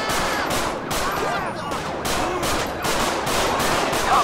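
Rapid gunfire bursts from police shootouts in Grand Theft Auto V, with repeated sharp volleys continuing loudly throughout, mixed with game radio chatter.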